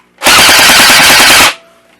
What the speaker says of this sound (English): As your ears now tell you, it does fire fast, and it is loud in operation.